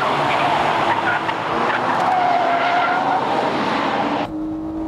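A Honda NSX Type S, a 2006 road car prone to oversteer, slides through a corner on a racing circuit, its engine roaring loudly with tire squeal before the sound drops off sharply near the end.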